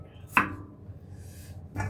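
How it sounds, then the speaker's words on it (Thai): Carrots are chopped with a knife on a board while making a Western-style chicken curry: one sharp, crisp chop, then a fainter second cut, close by with a quiet kitchen behind. "เราจะมาหั่นแครอทนะคะ"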